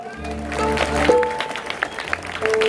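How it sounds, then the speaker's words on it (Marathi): A live folk-performance audience of Kalgitura contest in Guhagar claps in a dense, sustained burst, with a held musical tone and some voices mixed in near the stage. "एकदा जरा जोरात टाळ्या होत्या बघू द्या."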